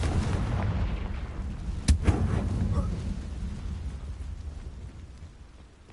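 A fiery Confringo blasting spell from Hogwarts Legacy goes off in one sharp, loud boom, followed by a rumbling decay that fades away over several seconds.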